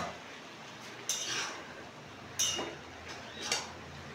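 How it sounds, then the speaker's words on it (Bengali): A metal pot lid clinks and scrapes three separate times as it is lifted from a pot of mixed vegetarian vegetables cooking on the stove; the sharp, close clatters are spaced out over a quiet kitchen hiss. "আমি ঢাকাটা তুলে দেখব"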